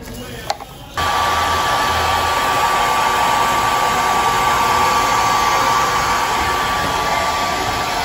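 A hair dryer blows steadily and loudly on a freshly painted craft piece for about seven seconds after a brief quiet start, its even whoosh continuous, during a family painting activity in Okinawa.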